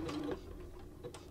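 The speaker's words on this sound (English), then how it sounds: "as I'm going under my presser foot, I keep my elastic stretched and fabric just as it is." A home sewing machine stitches stretched elastic onto flat fabric for underwear, a faint mechanical ticking and whirring that runs steadily and close through the short stretch, with no talk.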